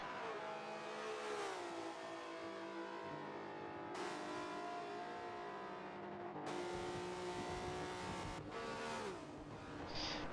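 Touring race cars roar through a Volvo racing video game at Yas Marina, engines revving and shifting in continuous waves with abrupt cuts between camera views, fairly close and without talk.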